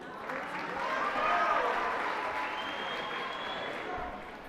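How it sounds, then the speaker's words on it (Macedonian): Audience applause for children after a school forum-theatre performance, a dense steady clatter of clapping that swells in the middle and carries on evenly to the end. "дајте им аплауз"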